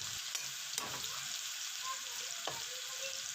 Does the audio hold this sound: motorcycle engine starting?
no